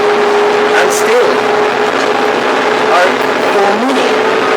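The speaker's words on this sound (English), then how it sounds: "this tractor is relatively quiet on high revs" A Zetor Major 80 tractor's engine runs at high revs with a steady, loud, even drone and a few slight shifts in pitch throughout, while a person talks over it.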